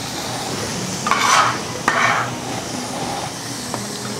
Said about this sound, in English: It's very important that you hear that sizzling when you're cooking.